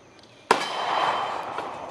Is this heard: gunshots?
yes